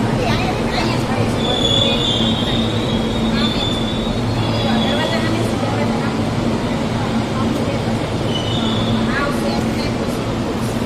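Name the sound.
Ahmedabad metro train ride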